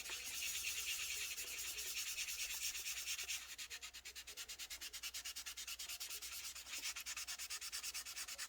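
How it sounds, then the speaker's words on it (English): Filler sanded down on the hood of an AMT 1968 Corvair model kit, close-up raspy rubbing that starts as a steady scrub and turns into fast, even back-and-forth strokes. "Then we're just going to go ahead and sand them down"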